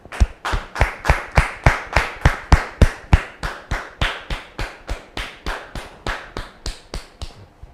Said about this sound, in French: Je vous demande de le recevoir sous vos applaudissements,